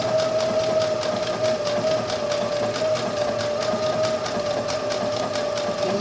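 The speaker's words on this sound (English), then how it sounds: "And then stitch it right close to the groove there" Close up, a sewing machine runs continuously with a steady whine and fast, even needle pulses, sewing a stretch stitch near the groove of a tank top's bust seam.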